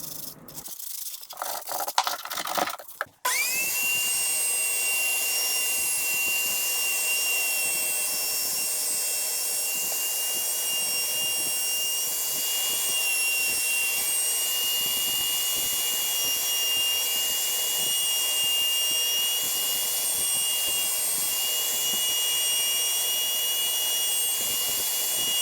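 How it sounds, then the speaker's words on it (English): A router rounds off the edges of a wooden boot wash station. After a few seconds of scattered knocks, its motor settles into a loud, steady high whine that runs continuously. "using the router to round off the edges"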